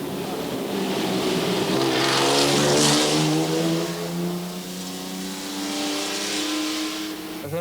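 A Ferrari Daytona races through a village on the 1993 Tour Auto rally, its engine revving hard and rising in pitch as it passes close and loud, then fading and accelerating again.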